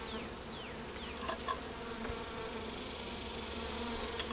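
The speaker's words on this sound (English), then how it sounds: "There's bees all over." Bees swarm around a top bar hive as the comb is handled, making a dense, continuous buzz close by, with individual insects whining past the ear now and then over a steady drone.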